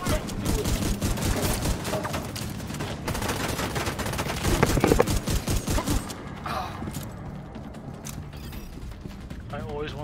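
Shotgun fire in the video game The Division 2, amid continuous heavy gunfire and mechanical clatter of a loud firefight, easing into quieter sporadic shots with a voice talking over it.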